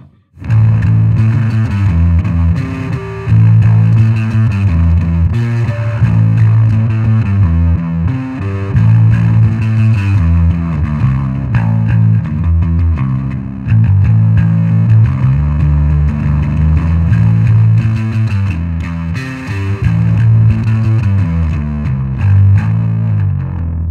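Electric guitar through an Electro-Harmonix Sovtek Deluxe Big Muff Pi fuzz pedal plays chunky riffs and sustained chords, loud and continuous with a thick, saturated tone.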